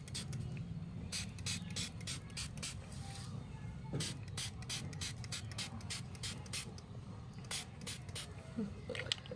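A spray bottle filled with plain water is pumped onto hair in a quick series of sharp hissing spritzes, about a dozen or more, over a low steady background murmur.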